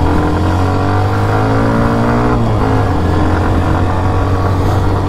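A Hero Xtreme 125R motorcycle carrying a pillion rider hums with a loud, steady engine drone close by. Midway the pitch shifts briefly, as at a gear change, then the engine settles back into a constant tone.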